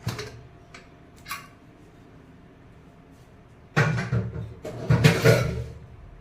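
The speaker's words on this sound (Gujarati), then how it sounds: "હવે કુકર ખોલી લઈશું." A pressure cooker opened after two whistles, heard as a few light clicks and knocks of the lid, then a louder burst of metallic clattering and hiss-like rush near the end, close by.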